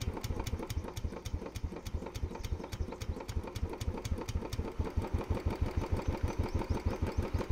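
A motorcycle engine idles steadily during carburettor tuning, sounding as a fast, even, close-up putter of regular firing pulses that stays consistent throughout, with no speech.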